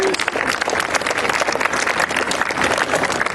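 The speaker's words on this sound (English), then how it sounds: "round of applause, please" An audience claps for the Delphos Fire and Rescue Department at a school mock crash event. The applause is steady and dense, a sustained round of clapping at moderate volume.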